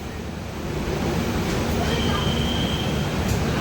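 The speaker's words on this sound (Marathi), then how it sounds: "आमची ट्रेन निघाली आहे" A steady low rumble of a train pulling away from Mumbai, broad and continuous, with a faint high whine running through the middle.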